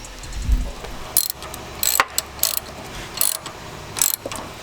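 Ratchet wrench tightening a turbo inlet hose flange on a Subaru WRX, several short bursts of quick metallic clicking close by, separated by brief pauses over a faint background hum.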